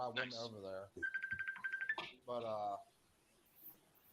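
A short electronic phone ring, a rapid warbling trill lasting about a second, with voices speaking just before and after it.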